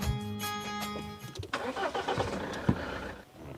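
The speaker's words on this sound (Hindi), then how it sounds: "भैया स्टार्ट कीजिए, गाड़ी बन गई है।" A car engine cranks and catches, sputtering briefly before settling into a rough running rumble with a few revs, heard close by and without talk.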